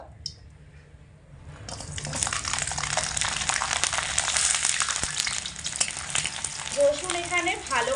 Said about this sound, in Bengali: গরম তেলের মধ্যে এখানে একটা বড় রসুন খোসা ফেলে নিয়েছি তো গোটা রসুনের কোয়াই এখানে দেবো